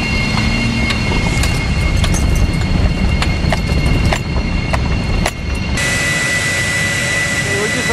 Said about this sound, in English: the turbojet has been started